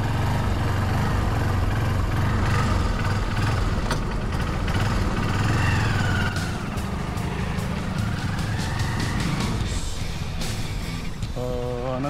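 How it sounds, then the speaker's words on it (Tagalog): A Honda Supremo 150 motorcycle cruises on a ride in Zambales, its engine a steady low hum buried under loud continuous wind rush, with a few faint clicks and beeps near the end. "Baka hindi marinig kasi medyo tahimik to hindi siya sobrang ingay na motor."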